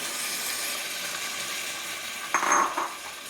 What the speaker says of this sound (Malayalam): പുളിവെള്ളം ഒഴിച്ചു കൊടുക്കുക.